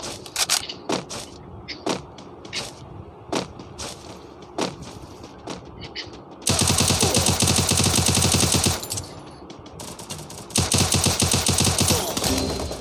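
Gunfire in the Free Fire battle royale game: a string of single sharp shots is followed by two long, loud bursts of rapid automatic fire. No one speaks.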